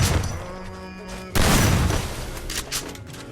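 Shotgun blasts in a video game: a loud, heavy burst of fire lands abruptly, then trails off into rumbling echoes and a few weaker thuds.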